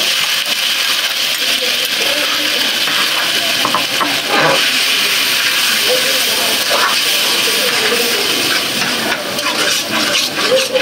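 Coconut paste hitting hot ghee gives a steady, loud broadband sizzle and hiss that persists throughout, with faint clinks and background voices in a village kitchen.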